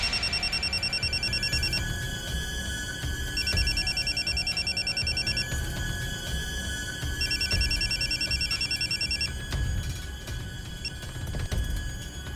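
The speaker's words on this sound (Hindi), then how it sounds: "फिर मैंने वसीम के फोन पे कॉल किया था" A telephone rings in repeated electronic trills, three ring bursts with pauses between them, over a steady background of noise.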